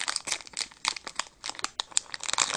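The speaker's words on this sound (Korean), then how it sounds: "한번 뜯어볼게요." A wrapper printed with a penguin pattern is torn open by hand, giving a close run of crinkling, crackling plastic with sharp rips, steady throughout and with no talking.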